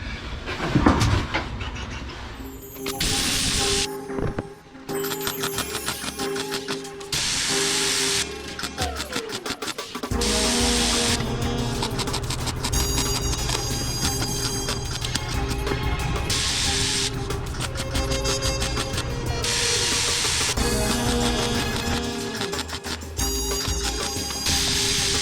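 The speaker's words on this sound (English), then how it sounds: "My blow gun." Compressed air from a blow gun, used during floor repair on a 1981 Monte Carlo, in repeated loud hissing blasts of varying length with short gaps, close by and without talk.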